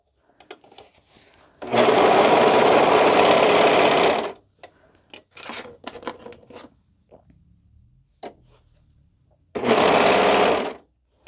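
A sewing machine stitches a cardigan seam in two loud, steady whirring bursts, one long and one shorter, separated by quieter handling clicks and rustles of fabric being fed through, close up.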